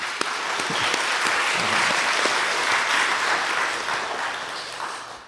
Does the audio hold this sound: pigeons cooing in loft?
no